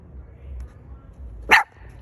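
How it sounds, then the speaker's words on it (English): Outside, the neighbor's dog gives a single short bark at a distance, brief and moderately loud against a quiet low rumble. "their dog is barking"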